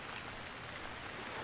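Rain falls steadily in the survival game Stranded Deep, a soft continuous hiss of drops on surfaces with no other sounds.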